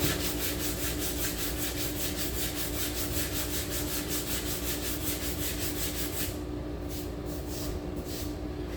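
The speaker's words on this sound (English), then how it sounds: "Sand it just like that, like you're making the letter X." Hand sanding the painted body parts of a 2017 Chevy Sonic in an X pattern gives a loud, rhythmic back-and-forth rasp that repeats quickly and steadily, close up, then eases into separate strokes near the end.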